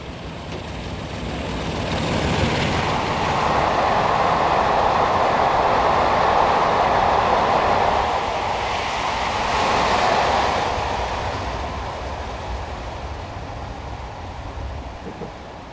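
A Class 4 electric train in Train Simulator 2015 accelerates toward a 60 mph limit on the Coulsdon Town to London Victoria route, with a steady rising motor whine and rolling rail rumble, loud and continuous, swelling twice.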